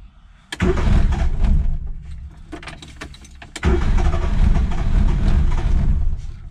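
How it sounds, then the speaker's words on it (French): Carburetor engine cranking on its starter motor, with a cold-start choke engaged, in two loud bursts separated by a quieter gap, rough and uneven without firing cleanly, close by. "Le démarreur, il va super bien en tout cas."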